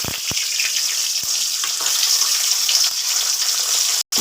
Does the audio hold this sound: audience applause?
no